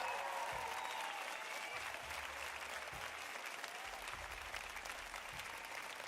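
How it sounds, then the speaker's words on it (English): Applause from a live audience after a tabletop homebrew review, a steady wash of clapping that holds at moderate level for several seconds with no one speaking. "Round of applause."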